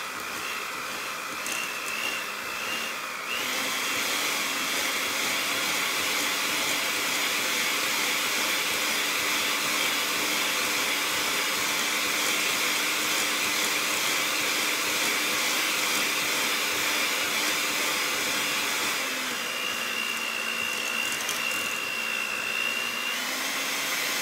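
An electric mixer creams blondie batter for strawberry lemon blondies, a loud, steady whirring drone with a high whine that shifts in pitch briefly near the start and again toward the end.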